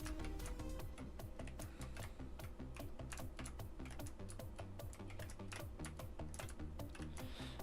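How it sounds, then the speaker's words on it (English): Rapid clicking keystrokes on a fancy mechanical computer keyboard during gaming, a dense, continuous clatter of sharp ticks over a steady low hum, close and unbroken for several seconds without talk. "hearing all the click-clacks of my fancy keyboard keys"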